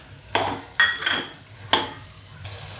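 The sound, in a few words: green peas being poured into a pan and stirred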